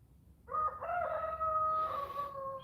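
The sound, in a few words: rooster crowing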